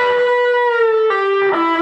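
Short distorted electric guitar phrase from a country blues bending lick, a long sustained bent note sliding down, then two quick plucked notes, close and clear with no voices.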